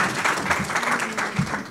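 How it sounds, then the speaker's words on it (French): A conference crowd gives a welcoming round of applause to a speaker taking the stage, a dense, steady wash of many hands clapping at moderate loudness with no voices over it. "je vous propose d'accueillir, sous un tonnerre d'applaudissements, Arthur Millet"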